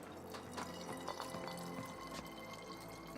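Soft gurgling, pouring liquid like water sloshing in a bottle, a steady low-level trickle with faint drips, heard as ambient sound in the Europa Universalis 5 strategy game.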